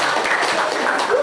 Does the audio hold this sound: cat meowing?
no